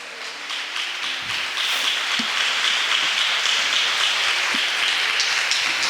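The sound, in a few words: congregation applause in church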